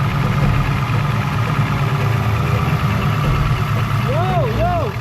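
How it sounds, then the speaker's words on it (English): An LS-swapped Infiniti G35 idles roughly and close by, a steady low engine drone that labors to keep running, with brief voices rising over it near the end. "Yes, the car is starting, but it wants to die every single time"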